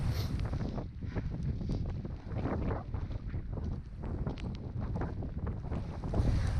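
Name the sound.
strong wind on open moors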